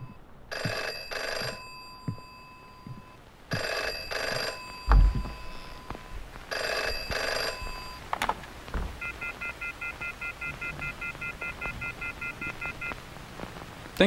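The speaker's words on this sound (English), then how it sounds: "Okay, it's time for me to answer the phone." A video game telephone rings in three loud, evenly spaced electronic bursts, followed by a faint thump and then a quieter, steady beeping tone.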